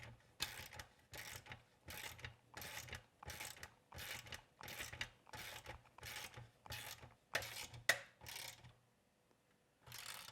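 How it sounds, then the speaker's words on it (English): Wheel bolts tightened with a 9/16 socket and wrench, a steady series of about a dozen rhythmic ratcheting bursts, close and quiet, ending in a brief pause, with no talk. "I've got a 9/16 socket here and a 9/16 wrench"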